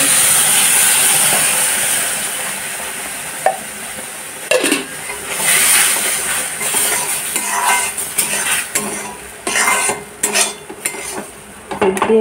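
Semolina (suji) fried in ghee is stirred with milk in a pan. A soft hiss and sizzle settle into scraping spoon strokes and light metallic knocks against the pan.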